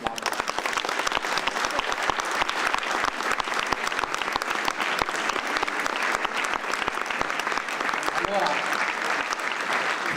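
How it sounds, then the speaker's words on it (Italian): Sustained, dense audience applause fills a hall at an honorary citizenship ceremony in Borgo Mantovano, steady and loud throughout with no pauses. "diamo applauso"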